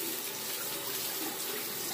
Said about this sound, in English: Now I'm going to rinse again.